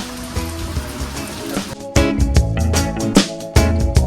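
Steady rain pours down, with a dense hiss and heavy drops hitting a surface, louder irregular spatters breaking through near the end.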